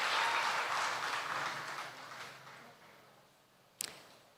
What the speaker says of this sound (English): let's give our winners another round of applause